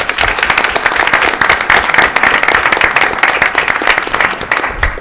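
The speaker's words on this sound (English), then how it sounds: "Let's give him a round of applause." Loud, lively applause at a school board meeting honoring a superintendent, dense rapid clapping with sharp individual claps standing out, steady and close throughout.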